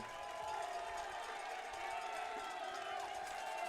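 A dense football stadium crowd roars steadily and cheers throughout as fans rise on third and goal from the one during a Bison versus Harding game, with the noise staying loud and continuous from start to finish.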